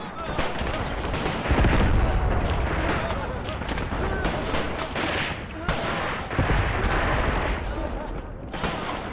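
Grenade blasts in Graviteam: Pivot Point boom among dense artillery and machine-gun fire, a loud continuous battle din with several heavier explosions, while someone talks over it.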